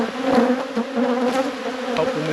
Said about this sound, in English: Plenty of bees up the top.